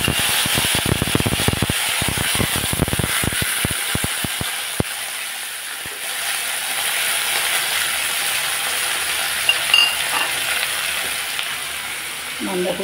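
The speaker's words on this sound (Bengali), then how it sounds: "কালো জিরা গরম তেলে দিয়ে দিলাম টমেটো আর কাঁচা লঙ্কা" Black cumin, tomato and green chili hitting hot oil in a pan, a loud continuous sizzle with a burst of sharp spattering crackles early on that settles into a steady hiss.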